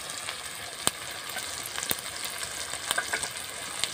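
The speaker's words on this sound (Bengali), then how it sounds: "মশলাটা ভালোভাবে ভেজে নিয়েছি, এবার লঙ্কা গুঁড়ো, হলুদ গুঁড়ো দিয়ে দেবো।" Chopped tomato and masala spices fry in a pan with a soft, steady sizzle broken by a few sharp clicks of a stirring spoon.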